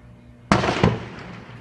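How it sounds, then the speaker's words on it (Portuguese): Two loud sharp bangs in quick succession, gunfire a short way off during a bank raid in Chapadão do Sul, Brazil, each with a brief echoing tail. "Faz tempo que eles estão trocando tiro"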